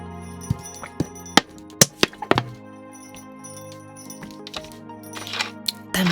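A plastic bottle is handled and set down on a desk: several sharp knocks and clinks come close and loud in the first half, then quieter fumbling and a final rustle.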